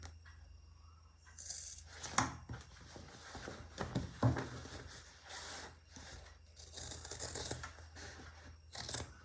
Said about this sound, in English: Use your scissor, cut it in the middle line